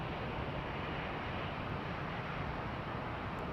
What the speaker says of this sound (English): this MD-11 that is taxiing down Juliet right now